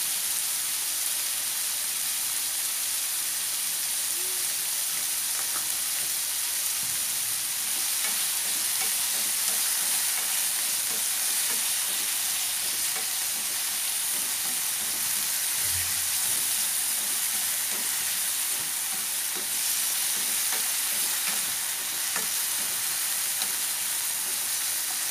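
Beef stir-fried over high heat with luffa shoots sizzles steadily in a hot pan, a loud, even hiss with faint scraping that continues unbroken and without any talk.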